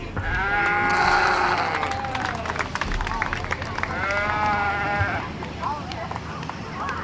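Black-faced sheep bleat repeatedly in a show ring at the 2025 Sheridan County Fair, with a long wavering cry early on and another bleat midway, heard over steady crowd noise and background chatter.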